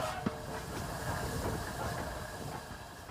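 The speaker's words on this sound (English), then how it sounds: "It's a large locomotive." The Flying Scotsman, a large three-cylinder steam locomotive of about 96 tonnes, runs at speed, heard from the footplate as a constant rushing roar and hiss with rhythmic rail clatter and a sharp click early on.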